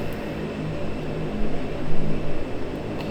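A Dornier 328-110 turboprop in X-Plane 12 taxis toward the runway, its propeller engines giving a steady, moderately loud drone with a low rumble that swells slightly midway, no talk over it.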